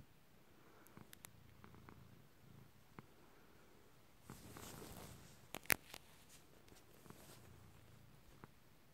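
A cat purring softly while cuddled up in a person's arms at bedtime, a faint low steady rumble with light rustling and a brief louder shuffle midway.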